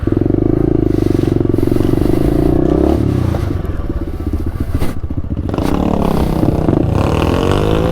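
A small pit bike engine revs hard close by, a loud buzzing drone that rises and falls in pitch as the throttle is worked, with some rattling and scraping.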